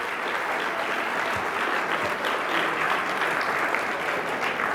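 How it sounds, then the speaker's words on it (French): An audience at an evening tribute ceremony gives a sustained round of applause, many hands clapping together at an even level for several seconds. "C'est pas terminé, mais une bonne main d'applaudissement"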